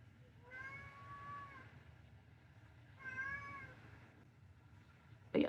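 A house cat meows indoors, two clear drawn-out meows a couple of seconds apart at moderate distance, followed by a brief sharp knock at the very end.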